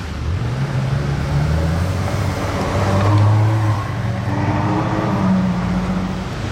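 A Ferrari 812 at the Bonhams Monaco auction drives up close, its engine note rising and falling as it revs and moves past, loud and near with no talking.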